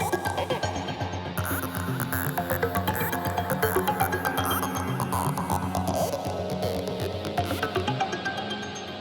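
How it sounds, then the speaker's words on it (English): A hypnotic techno synth section made of two near-identical vowel-like synth sounds pulses in a fast, steady repeating pattern, dense and bright with sweeping filtered tones, loud and continuous, with no voices. "Altogether, my synth section sounds like this."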